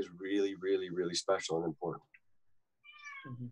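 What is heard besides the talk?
cat meowing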